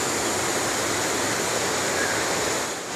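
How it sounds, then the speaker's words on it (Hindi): A waterfall at the Bhanwar Mata temple pours steadily after rain, a dense, loud, unbroken rushing roar of water heard close by, with no voices. "किस प्रकार से ये जो झरना है वो चल रहा है।"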